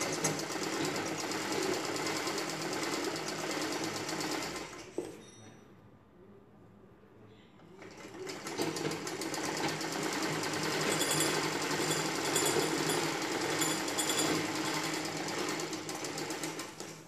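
A sewing machine stitches a folded fabric edge on a blouse sleeve: rapid mechanical whirring and clatter that pauses for a couple of seconds, then resumes and runs steadily to the end.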